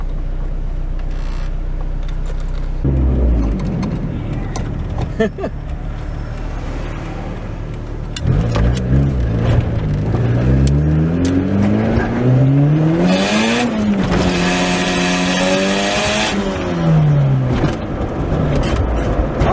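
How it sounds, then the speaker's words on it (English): A Honda Prelude engine with a turbo revs hard through VTEC and climbs sharply in pitch, screaming at high revs before dropping back, loud and close. "Let me see if I can't get one good VTEC pull for you guys"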